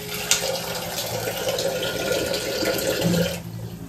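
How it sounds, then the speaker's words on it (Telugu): A steady stream of water pours continuously for several seconds, close by, with a faint hum underneath. "మనం మామూలుగా వాటర్ అయినా కూడా ఓకే, 1 గ్లాస్ వేసుకోవచ్చు"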